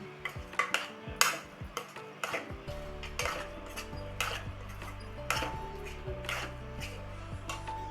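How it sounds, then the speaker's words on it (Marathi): Mango ladoo mixture being stirred in a kadhai, with repeated spoon scrapes and clinks of metal against the pan in an irregular rhythm, close and moderately loud with no talk. "आता व्यवस्थित हलवून घेऊ आपण ह्याला सारण पूर्ण कोरडं होस्तर हलवून"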